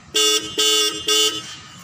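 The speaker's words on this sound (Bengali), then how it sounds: "হর্ন দেন" Three loud, evenly spaced blasts from the horn of a Tusker Junior 1214 sleeper cabin truck, each a bright, sustained tone, sounded close by with no talk.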